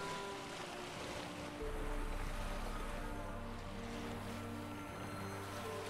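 A boat engine drones steadily while water washes and rushes around the hull in The Witcher 3 Next-Gen gameplay, with a low rumble thickening partway through.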